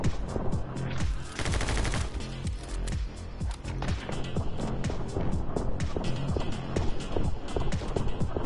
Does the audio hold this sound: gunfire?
yes